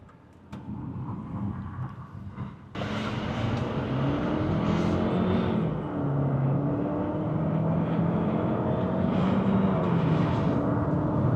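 A 2026 Jaecoo J5 with a 1.5T engine and CVT accelerates uphill on the road to Genting, Malaysia, its engine droning steadily with rising and falling pitch steps like simulated gear shifts, heard from inside the cabin.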